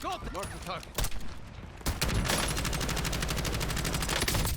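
Gunfire in the Warzone video game: a few separate shots up front, then a sustained rapid automatic burst with a fast, even rhythm, loud and close, alongside game sound effects.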